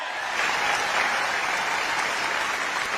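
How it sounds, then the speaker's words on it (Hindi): Audience applause at a speech gathering, a steady, dense wash of many hands clapping together for three seconds, moderately loud with no speaking over it. "भाइयों और बहनों, ताली बजनी चाहिए कि नहीं बजनी चाहिए?"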